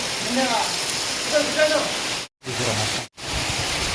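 A steady, dense hiss of heavy rain at a hostel fills the whole stretch, with voices and songs playing faintly drifting over it and two brief sudden cutouts.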